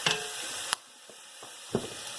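Seasoned tofu scramble with paprika sizzles softly in a pan while a utensil stirs it, giving a few sharp scrapes and taps over a steady frying hiss.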